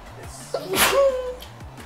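A single sharp sneeze bursts out close by, with brief breathy noise around it against a quiet background.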